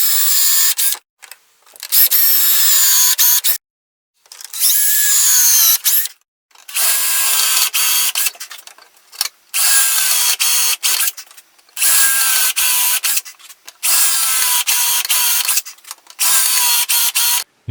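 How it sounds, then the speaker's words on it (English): A power drill bores guide holes into a tropical wood garden tabletop, running in about eight loud, close bursts of high whining spin separated by brief pauses. "Now I am going to drill the guide holes to the length of the screws."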